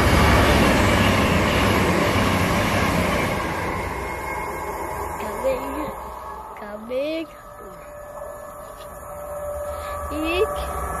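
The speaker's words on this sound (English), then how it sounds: "did you know that trains are so fast?" A train roars past close by near Musselburgh, Scotland, its rumble fading over several seconds, followed by quieter ambient noise with a few short tonal squeals.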